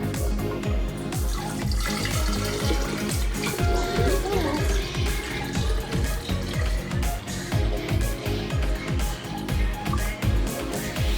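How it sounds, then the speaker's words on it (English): Homemade hummingbird nectar is poured into a feeder, a continuous trickling liquid stream with gurgling splashes, close and fairly loud, with brief faint voices in the background. "Right, so we're going to pour it into the feeder."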